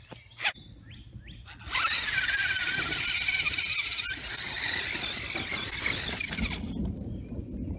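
Axial SCX10 rock crawler on a 3S battery, fitted with new linkages, running after a quiet start: a steady high whine of its motor and drivetrain lasting about five seconds, then easing off.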